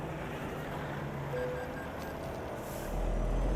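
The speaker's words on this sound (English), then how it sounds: "I just stalled the truck." A heavy truck engine, an M11 in a truck-driving video game, idles with a low rumble, then sputters and stalls, followed by a deeper rumbling surge near the end.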